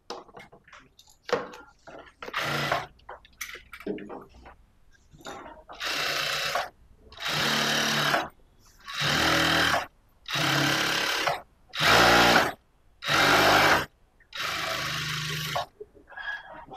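Sewing machine stitching blouse lining, with bursts of rapid whirring stitching about a second long separated by short pauses, and someone speaking in between.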